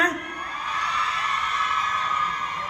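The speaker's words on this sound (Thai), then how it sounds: "ใครถูกใจช็อตนี้ขอเสียงกรี๊ดดังๆได้ไหมจ๊ะ" A crowd at a TV series launch event screams and whoops in a sustained, high-pitched roar that swells and holds steady for a few seconds.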